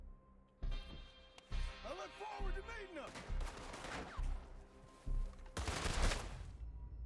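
Enemy gunfire in Red Dead Redemption 2 comes as repeated loud bursts of shots, with bangs and rolling echoes spread across the stretch and a heavy volley near the end, mixed with other game sounds and no speech.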